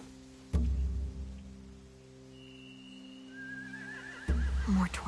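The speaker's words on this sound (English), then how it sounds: "They have horses." Horses neigh and whinny in a video game, in short rising and falling calls heard fairly faintly over a low, steady ambient hum, with heavy thuds at the start and near the end.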